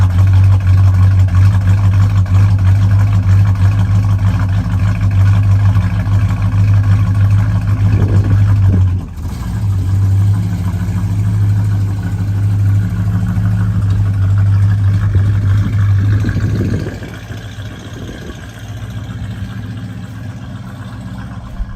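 A 1970 Plymouth Superbird V8 idles steadily and close, a deep, constant low rumble that dips briefly around the midpoint and then settles slightly quieter toward the end, with no talk over it.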